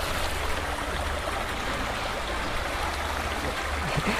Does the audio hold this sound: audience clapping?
no